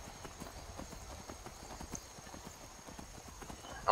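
Horse hooves clip-clopping at a steady trot in Skyrim after the horse is stolen, a continuous, fairly faint rhythmic patter with quiet game ambience underneath.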